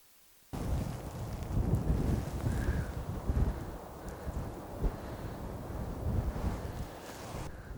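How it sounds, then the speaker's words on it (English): Wind gusts across an open golf course, a steady broad rushing roar with buffeting swells, close and fairly loud against the microphone, with no voices. "the wind gusted a bit"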